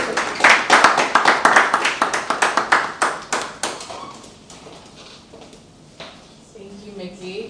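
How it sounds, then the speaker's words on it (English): Scattered audience applause at a creative-industry technology talk, a few close, distinct claps in a quick ragged rhythm that thin out and fade after about four seconds, with a voice beginning to speak near the end. "a round of applause for our person"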